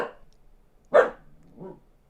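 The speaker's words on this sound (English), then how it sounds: "Max is barking." A dog gives a couple of short, separate barks indoors, one sharp and louder, followed by a softer, lower woof, close by with quiet gaps between.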